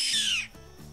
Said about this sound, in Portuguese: Carrapateiro, também chamado de pinhé. Provavelmente você já ouviu a vocalização dele.